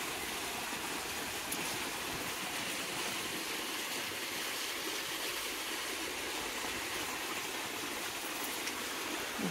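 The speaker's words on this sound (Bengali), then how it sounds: "দেখো জলটা কত জোরে যাচ্ছে।" Water rushes into a dry pond in a loud, steady broadband roar, a continuous close torrent with no pauses for nearly ten seconds.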